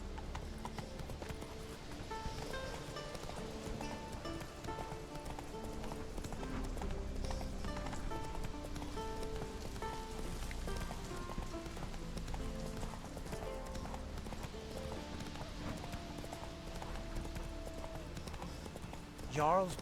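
Roach the horse galloping in The Witcher 3, with a steady clip-clop of hooves running under game music and character voices talking throughout.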